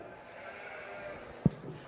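Hampshire market lambs in a county fair livestock arena let out a single short bleat, close and fairly loud, over a steady low background hum.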